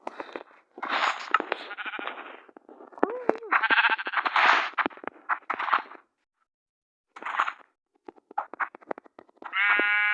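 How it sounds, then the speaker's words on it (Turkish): Repeated sheep bleats from Minecraft, several in quick succession with short pauses, loud and close, with a synthetic game-like quality. "Koyun kaynıyor burası."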